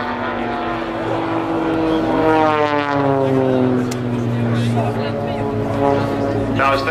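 Propeller aerobatic planes of the Blades team fly a double-cross pass at the 2009 Sanicole Airshow, giving a loud engine drone with rising and falling Doppler whines as the aircraft cross, while a commentator talks over it.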